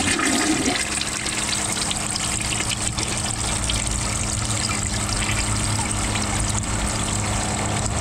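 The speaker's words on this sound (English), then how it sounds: "I'm going to give it a second flush after the tank is full." A 2003 Kohler Wellworth Ingenium toilet flushes for the second time after the tank refills, giving a steady, loud rushing of water that continues without a break throughout.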